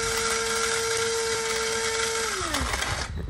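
A small electric coffee-bean and spice grinder whirs steadily while grinding whole black peppercorns, a loud, close, high motor whine that drops in pitch near the end as it winds down.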